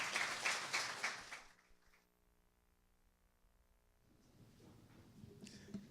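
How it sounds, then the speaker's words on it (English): An audience at a 2019 graduation ceremony claps in a burst of applause that dies away into near silence, then faint clapping builds again at the end. "Can we get a warm applause again for Mr. Christian Greer?"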